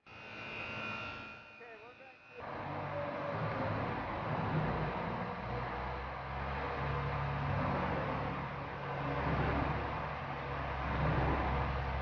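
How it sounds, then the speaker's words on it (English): A truck rolls into the unloading bay of a turkey processing plant, its engine droning steadily and loudly close by, with a low rumble and broadband roar that builds after a brief quieter stretch at the start. "The truck pulls into the unloading bay."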